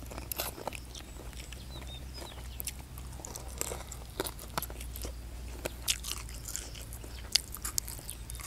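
Big crunchy chunks of chicken feet in a spicy Thai papaya salad being bitten and chewed close up, with repeated sharp crunches and wet chewing over a steady low background hum.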